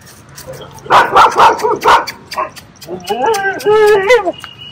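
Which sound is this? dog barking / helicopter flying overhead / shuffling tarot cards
dog barking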